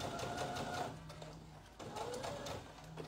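Sewing machine stitching an Ensemble Ganesh garment, running in two steady bursts of rapid mechanical whirring separated by a brief pause, close and fairly loud.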